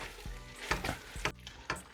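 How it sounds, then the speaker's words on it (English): Meat sizzles softly in a pan for jambalaya, punctuated by several scraping stirs and clinks of a utensil against the pan. "You can hear my sizzle"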